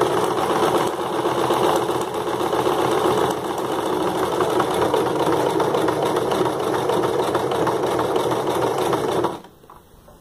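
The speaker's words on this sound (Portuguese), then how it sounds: "Agora eu levanto a agulha, mudo o seletor para o passo 2 e vou fazer a lateral esquerda" A sewing machine stitches the left side of a buttonhole, running in a continuous, loud, fast mechanical whir for about nine seconds before stopping abruptly into near silence.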